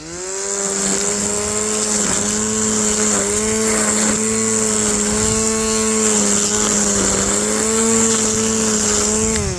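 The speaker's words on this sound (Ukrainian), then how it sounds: "Ну не важно, починаємо косити." A cordless battery-powered brush cutter mowing grass, its electric motor giving a loud, steady high whine that dips slightly in pitch as the line bites into grass, close up with no talking.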